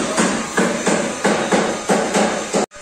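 Cutting a Chevrolet Cruze 1.8 exhaust pipe: a loud, close series of about eight harsh rhythmic strokes, evenly spaced like sawing or hammering on metal, with no talking.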